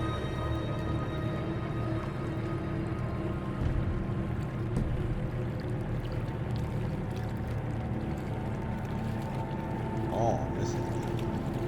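A steady low boat motor drones and rumbles throughout in the video game Kona 2: Brume, throttled along at an even pace, with someone talking briefly over it.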